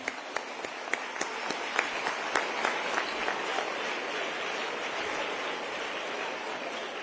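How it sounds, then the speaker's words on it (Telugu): Audience applause at a school event where Nara Lokesh launches AI, STEM and robotics labs in Vizag; a steady wash of many hands clapping fills the hall, with a few sharper individual claps standing out at the start. "మనందరం ఒక్కసారి చప్పట్లు కొడదామా ఆయనకి?"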